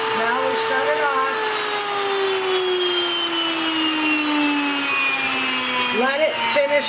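A WonderMill electric flour mill, just switched off after grinding rye, winds down with a loud whine whose pitch slowly falls, ending in a brief rattle.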